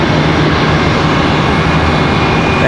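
A CRJ regional jet landing on a parallel runway at Charlotte Douglas airport, a steady, loud broadband engine roar holding level throughout without any talk.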